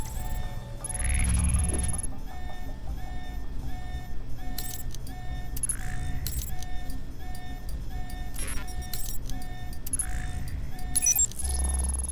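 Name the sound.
alarm going off in video game Alpha Protocol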